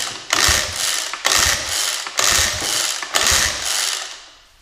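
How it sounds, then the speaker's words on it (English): Small outboard motor being pull-started for a compression test: four hard starter-cord pulls, each a loud whirring, ratcheting burst of the cranking engine at an even rhythm, with no talk. "give the motor good 3 or 4 or 5 maybe hard normal starting pulls"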